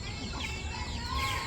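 Chickens kept in a backyard coop, soft clucking and faint chatter carried over a steady background hiss, fairly quiet and a little distant.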